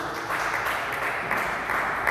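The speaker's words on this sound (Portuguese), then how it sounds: "dando uma salva de palmas bem alegre para Jesus" Dense applause from a large church congregation, a continuous wash of clapping heard at a moderate distance, steady throughout.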